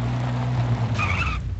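A summoned vehicle arriving in the video game Defiance, a steady engine hum with a short tonal chime or whine partway through, close and continuous for under two seconds.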